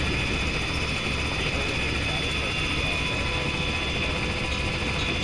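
Helicopter in flight in the military video game Arma 3, with a loud, continuous rotor and engine drone that stays steady and close for the whole stretch.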